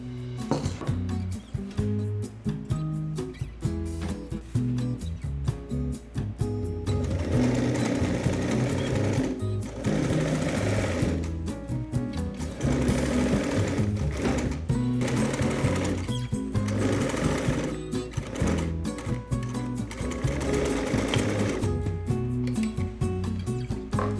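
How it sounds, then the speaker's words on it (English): A sewing machine runs in steady bursts as it stitches the seam of a skirt waistband, its fast rhythmic needle chatter close and clear, pausing briefly between runs. "Now we're going to stitch this, leaving a 1 centimeter seam allowance."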